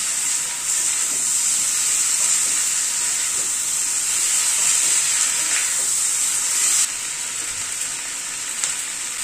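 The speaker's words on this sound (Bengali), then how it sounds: "পেঁয়াজটা কিন্তু খুব বেশি ভাজবো না, হালকা করে ভাজবো।" Chopped onion and small chopped tomatoes sizzle steadily in a pan on a gas flame, a loud, continuous frying hiss that drops slightly near the end.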